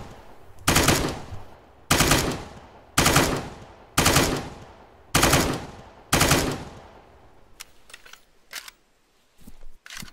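MK16 rifle in Arma 3, six evenly spaced loud single shots at close range, each with a sharp crack and short decaying tail, followed by quieter faint clicks and small mechanical sounds.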